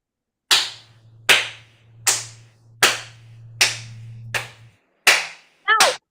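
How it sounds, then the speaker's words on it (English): Hands clap sharply at a steady, deliberate pace, about eight loud claps roughly a second apart, with a faint low hum running underneath and a quick flurry of claps at the end. "Now, while we're clapping,"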